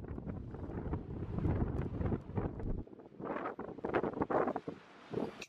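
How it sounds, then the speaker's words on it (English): Strong gusting wind at a wind farm in New Zealand's North Island buffets the microphone, a loud rushing roar that surges and drops in uneven blasts. "It was very windy"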